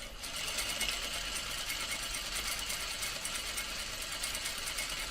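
A sewing machine runs steadily and close up while stitching a welt seam through several layers of fabric, a fast even mechanical whir with a back stitch at the start.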